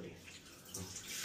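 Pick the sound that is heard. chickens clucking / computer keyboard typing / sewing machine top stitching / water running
water running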